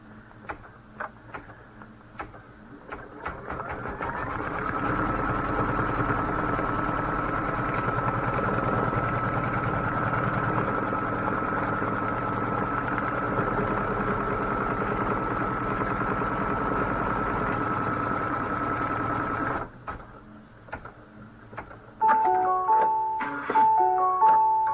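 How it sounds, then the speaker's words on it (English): An embroidery sewing machine stitches a building placement line on white glitter fabric, running steadily for about fifteen seconds with a fast rhythmic whir, then stopping, followed by a few beeps. "Now it's going to stitch the building placement line."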